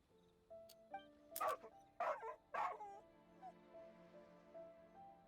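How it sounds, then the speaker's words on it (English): In the Genshin Impact video game, an abandoned dog gives a few yipping barks and whimpers over soft background music, three louder yelps clustered in the middle. "poor abandoned dog"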